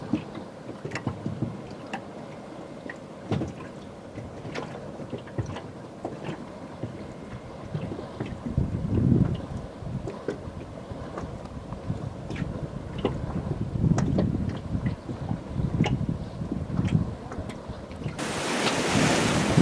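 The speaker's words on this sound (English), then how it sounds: "I'm on the dinghy right now, so that is why things are a little bouncy." Small dinghy bouncing over ocean surf among the southern Exuma Islands, with steady wind buffeting and water sloshing against the hull throughout, growing rougher and louder toward the end.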